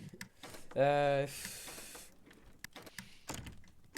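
A car door in the video game Nova Life opens and closes: a short electric whirring tone, then a hissing slide and a soft latch, heard amid muffled chatter from several players.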